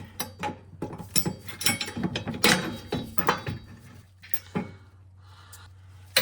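A ratchet drives an M12 bolt with a 19 mm socket while a rear sway bar is fitted to an Acura RSX Type S, giving close, uneven bursts of clicking and clattering separated by short pauses, with no talking.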